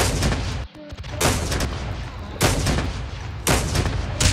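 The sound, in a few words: gunfire in Call of Duty video game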